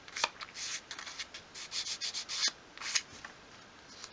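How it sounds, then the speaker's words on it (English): Sandpaper bevelling the front edges of a small wooden 1/12th scale filing cabinet, a series of short, close rubbing strokes in quick rhythm with brief pauses, alone without talk. "just holding the sandpaper at a 45-degree angle, just sweep along those front edges, just to bevel it off a little bit"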